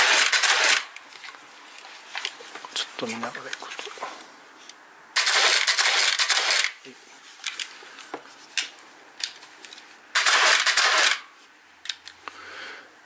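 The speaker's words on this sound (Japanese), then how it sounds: "連続シャッターですね。" A Pentax 645N medium format film camera fires its shutter in continuous mode, giving three sharp mechanical bursts of rapid clatter about five seconds apart, close and loud, while a person speaks briefly and softly between them.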